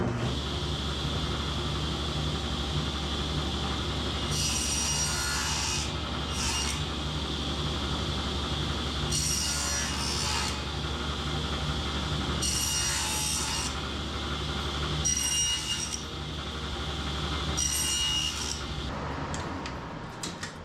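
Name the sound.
saw cutting wood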